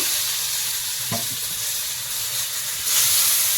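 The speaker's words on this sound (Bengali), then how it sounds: "তেলের মধ্যে এখন একটু পাঁচ ফোড়ন দিলাম তেজপাতা দেবো" Panch phoron spices and a bay leaf sizzling in hot oil for a pumpkin and rohu fish curry, a steady loud hiss with a brief crackle, with no talking.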